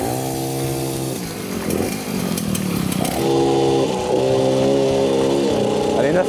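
A new Peugeot 103 moped engine running smoothly, a steady buzzing two-stroke drone that drops briefly, then revs back up and holds a higher even pitch, loud and close.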